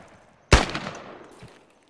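A single sharp, loud gunshot in a military shooter video game, with a short echoing tail that fades over about a second.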